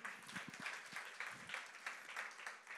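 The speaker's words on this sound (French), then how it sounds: "Est-ce qu'on peut l'applaudir et l'encourager?" Applause for a guest speaker at a church gathering, a faint, thin patter of clapping with a few sharper low knocks near the start, heard quietly in a reverberant room.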